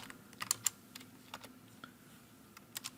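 Quiet clicks of keys being typed on a computer keyboard while coding an Arduino sketch, arriving in short irregular bursts with pauses between them and no voice.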